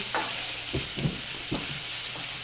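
Medium-sized onions fry in a pan under a constant sizzle, stirred by hand with a few soft scraping strokes at uneven intervals, quiet and close.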